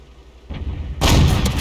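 A tank gun fires in the World of Tanks video game: a single sharp, loud blast erupts abruptly after a low rumbling lead-in and leaves a brief booming tail.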